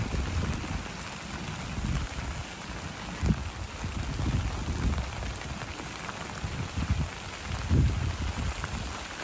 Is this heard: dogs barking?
no